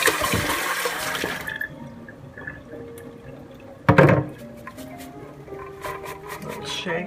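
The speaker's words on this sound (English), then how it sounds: "I fill the bowl with water to get it all washed" Tap water gushes into a bowl for rinsing parsley and bulgur, a rushing splash that fades, then scraping and clattering handling with a sharp burst partway through.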